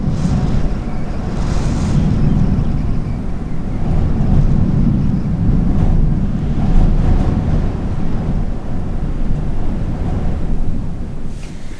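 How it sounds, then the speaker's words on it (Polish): Strong typhoon wind roaring outside a mountain hut in Hokkaido's Daisetsuzan mountains, a constant loud buffeting rush with gusty swells and no clear break throughout. "Ale wiatr jest gorszy niż był i będzie jeszcze gorszy."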